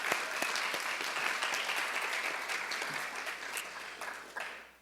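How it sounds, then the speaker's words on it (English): Sustained applause from an audience for a panel at a student organizing event on social change, steady dense clapping for about five seconds that tapers off at the end. "Let's give them one more big round of applause"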